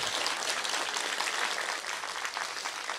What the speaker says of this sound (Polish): Szanowni Państwo, wielkie brawa dla profesora Michała Wszoły.